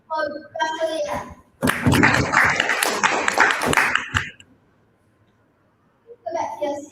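Audience applause for a performer bursts out in a dense clapping wash for about three seconds, framed by talking before and after and a near-silent pause at the end.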